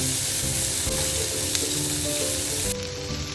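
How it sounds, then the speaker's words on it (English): Vegetables sautéing in a pan for fusilli pasta sauce give a dense, close, continuous sizzle with faint stirring underneath, and no voices. "I'm going to add the vegetables. Getting them sauteed."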